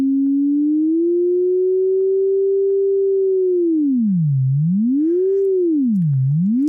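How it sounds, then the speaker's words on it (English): A pure sine tone from Ableton Operator, steady at first and then wobbling slowly up and down in pitch under modulation, clean and alone. "since we're using a sine wave, it just, as a wave, kind of goes up and down in pitch"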